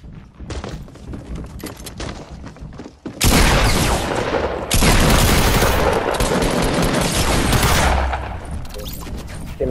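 Rapid video game gunfire bursts out loud and close, a sustained volley of shots with booming impacts that starts abruptly after a few seconds of quieter background noise and continues nearly to the end.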